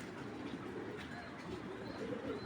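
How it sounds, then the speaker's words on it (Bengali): A Bangladeshi Giribaz pigeon coos softly at middle distance, its low murmuring calls half-buried in a broad wash of background noise, with no talking. "আমার অনেক পছন্দের একটা কবুতর"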